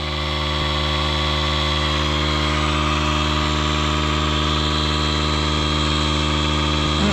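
An air compressor inflating tires runs as a loud, steady, close motor drone with a strong buzzing hum from start to finish, and no one speaks.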